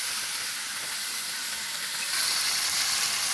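Chopped tomatoes hitting a hot pan of browning onions, giving a loud, steady sizzle and hiss that grows slightly stronger partway through, with no voices.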